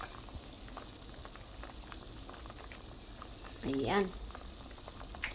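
Meat stew with annatto seeds simmers in a covered pot, giving a faint, steady bubbling hiss; a voice briefly speaks near the end.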